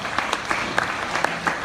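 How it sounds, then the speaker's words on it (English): A brief round of clapping from the audience at a county Democrats forum, honoring the caterers: an even, moderately loud patter of many hands that lasts under two seconds. "Let's give them a round of applause."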